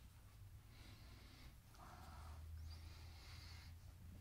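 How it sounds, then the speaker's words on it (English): Several close nasal sniffs and inhalations at a cotton t-shirt sprayed with Dr. Squatch cologne, soft breathy bursts in a quiet room with no talking. "let me go ahead and give this a sniff test."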